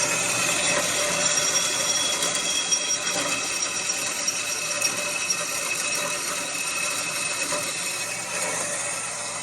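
Metal tubes being cut in a workshop ahead of purging and welding, a steady, loud grinding cutter noise running continuously throughout with no talking.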